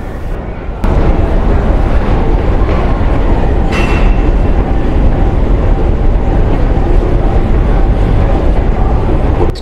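A Stockholm metro train roars loudly and continuously after a sudden onset, a dense rumbling rush with faint rattles and no voices.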